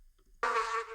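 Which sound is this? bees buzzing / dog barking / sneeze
bees buzzing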